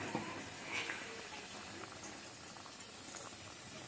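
Milkfish sinigang with guavas simmering in a pot gives a low, steady hiss with faint scattered bubbling pops, quiet and unbroken throughout.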